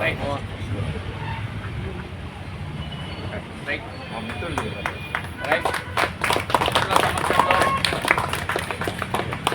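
Applause at a birthday celebration for a friend at an old-age home in the morning, a crowd of hands clapping in sharp scattered bursts that grow denser and louder over the second half, beneath ongoing background chatter.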